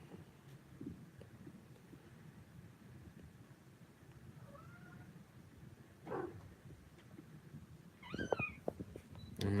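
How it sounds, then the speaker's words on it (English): A kitten gives a few short, thin meows between quiet stretches, with a louder, rising cry near the end over low rustling and faint wind noise; no one speaks. "Hey, kitty cat."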